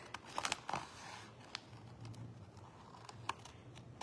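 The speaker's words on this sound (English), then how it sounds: "So I'm going to just take my scissors" A few quiet, crisp snips and rustles as scissors cut paper transfers close by, with sharp clicks scattered across a soft background.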